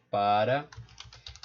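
A short spoken word gives way to a rapid run of light clicks as a Linux copy command is typed on a computer keyboard.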